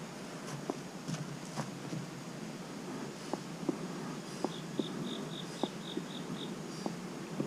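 Honeybees buzz steadily around an open beehive during a hive inspection, a dense insect hum with scattered clicks and light rustling from the beekeeper's handling.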